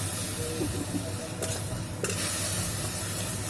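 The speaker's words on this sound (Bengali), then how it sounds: "যাতে আমার কড়ার মশলাটা না পুড়ে যায়, সেই জন্য একটুখানি জল দিয়ে দিলাম" A splash of water hits spice paste frying in a hot wok, giving a loud steady hiss of steam and sizzling with a couple of brief sharp bursts, close up, with no speech.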